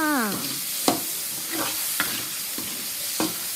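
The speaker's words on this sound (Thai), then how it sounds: "เสร็จแล้วผัดกันต่อเลยจ้า" Seasonings, MSG and sugar among them, being stir-fried in a hot wok for crispy fried tilapia with Chinese celery: a steady sizzle with sharp, regular scrapes and clatters of the spatula about every second.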